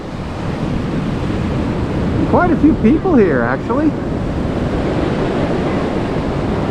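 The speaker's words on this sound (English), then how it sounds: "Waves rolling in." Ocean surf rolls steadily onto a beach near high tide, a constant broad wash with wind buffeting the microphone, and a person speaks briefly over it partway through.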